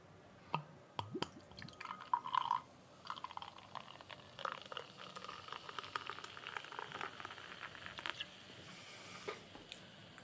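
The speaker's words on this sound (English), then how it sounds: "Let's pour this in, shall we?" Beer poured into a chalice glass, close up: a few clinks and splashes at the start, then a steady quiet fizzing and crackling of foam and bubbles settling.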